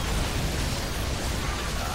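A nuclear missile detonates in StarCraft 2 co-op mutation play with the Terran commander Tychus, a dense, unbroken rumbling blast of noise that fills the whole two seconds at steady loudness.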